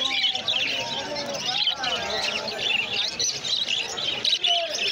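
Lutino and fawn cockatiels at a busy Galiff Street exotic bird market chirp and tweet continuously in a dense, overlapping chorus, with faint market chatter underneath.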